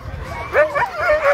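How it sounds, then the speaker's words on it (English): Open class sled dogs at a winter race in Anchorage, Alaska, giving a few short rising yips and whimpering barks close by over a low rumbling background. "Look at these little dogs"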